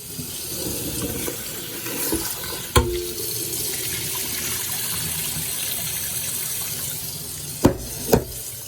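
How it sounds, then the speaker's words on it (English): Pork bones for bean soup being rinsed in a kitchen sink under running water, a steady gushing stream from the tap with a few sharp knocks of bones or pot against the basin. "So what I do is I just rinse the first water out."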